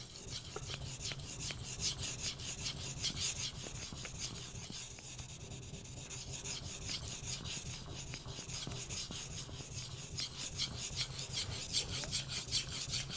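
A Shirogami steel knife drawn back and forth over a Japanese natural whetstone, giving a close, steady rasping scrape in a regular rhythm of strokes, with no talk.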